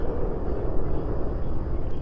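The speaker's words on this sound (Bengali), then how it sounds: "আর এখন আপনারা যে সাউন্ডটি শুনতে পাচ্ছেন সেটা কিন্তু মঙ্গল গ্রহ।" A recording of planet Mars is a loud, gusty rumbling roar with slightly pulsing swells, heavy in the low end and unbroken throughout, with no voices.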